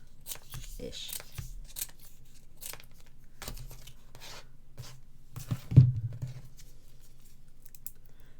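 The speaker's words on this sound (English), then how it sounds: "And I'm going to cut these into squares-ish." Scissors cut paper into squares for a handmade card: several short snips and rustles at intervals, with a sharper crisp cut near the end, between bits of talk.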